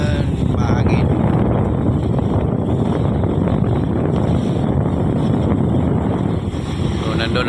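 Wind rushes steadily across the microphone in a loud, rumbling blast at the sea shore by rough water, with voices talking faintly underneath.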